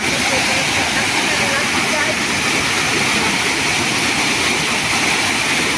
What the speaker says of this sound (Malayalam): ഇപ്പൊ നല്ല മഴ പെയ്തുകൊണ്ട് വെള്ളം ഇങ്ങനെ വരുന്നതാണ്